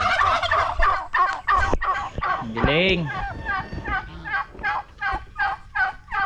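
Turkeys on a rural province farm gobble in rapid repeated bursts, close and loud, with a voice briefly exclaiming over them.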